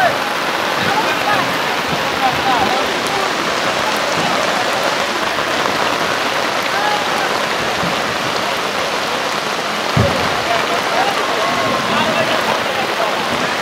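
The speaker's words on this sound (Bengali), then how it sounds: "দেখুন কি ঝুম বৃষ্টি।" Heavy rain pours down on a floating guava market at Bhimruli, Jhalakathi, where goods are sold from boats, making a dense, unbroken roar of water that stays loud and even throughout.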